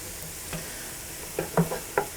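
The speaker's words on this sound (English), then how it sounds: "And then stir that in and just cook this for another minute" A spoon stirs a cooking mixture in a pan with a faint sizzle underneath, giving a few short scraping knocks that cluster toward the end.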